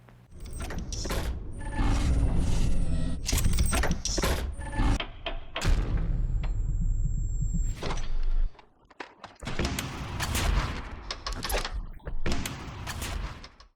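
A gun's bolt is worked open and closed in a series of sharp metallic clacks and thunks, loud and close, with pauses between bursts of mechanical handling.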